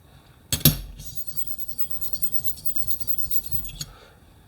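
Hair clipper blade scraped across a hardened flat steel rub block, a sharp knock followed by a close, continuous gritty rasping stroke that ends with a light tap.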